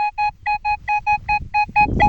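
A Nokta Makro Legend metal detector sounds a run of about ten evenly spaced, clean electronic beeps in the field, loud and close, with rustling at the end.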